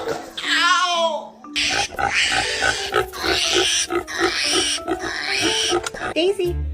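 A pig on a farm grunts and oinks in short bursts amid lively chatter and child-like vocal sounds, with people talking close by throughout.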